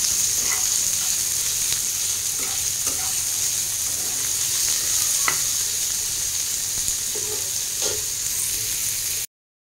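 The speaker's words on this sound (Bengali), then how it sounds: "এবার আমি পেঁয়াজ কুচিটাও দিয়ে দেবো, ভালো করে মিক্স করে নেব" Chopped onion frying in a pan gives a constant close sizzle, with scattered scrapes and taps from a spatula as it is mixed.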